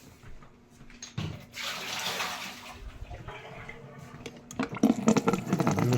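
Water from a refrigerator filter pitcher being poured out, likely into a sink, a soft steady splashing pour that swells and fades at moderate distance, followed by louder clatter and splashes.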